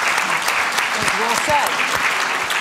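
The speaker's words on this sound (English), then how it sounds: "I feel like applauding." Audience applause at a women's health and development forum, clapping from a crowd heard close and loud while a voice speaks briefly over it.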